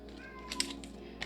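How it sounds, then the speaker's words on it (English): A male house cat cries indoors, a few short meows rising over a steady background hum across a little over a second, moderately close but not loud. "my cat's just crying and crying"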